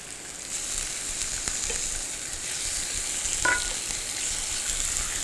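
Sous-vide pork hind leg steak frying in a lightly oiled pan produces a continuous close sizzle, with a couple of faint clicks of utensils against the pan and no speech.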